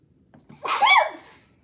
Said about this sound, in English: I have a really annoying sneeze.